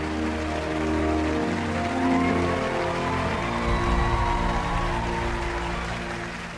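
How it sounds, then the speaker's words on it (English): A large talent-show audience applauds steadily throughout, a dense hiss of many hands with a faint undertone of cheering, fairly even and distant-sounding. "They're out there, they're cheering for you."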